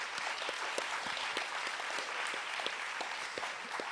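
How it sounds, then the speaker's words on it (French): Audience applause after a philosophy talk, a steady wash of many hands with distinct individual claps standing out, moderately quiet and continuous throughout. "on peut l'applaudir aussi"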